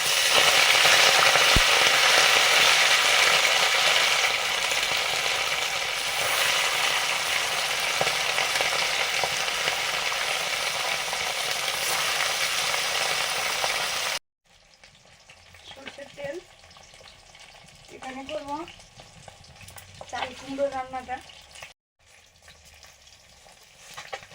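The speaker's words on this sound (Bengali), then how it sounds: "এখন ভাজছি ফেসা মাছটা" Phasa fish frying in a wok of hot oil after being rubbed with turmeric and salt, a loud, steady, dense sizzle that fills the first half before cutting to quieter kitchen sounds with a voice speaking.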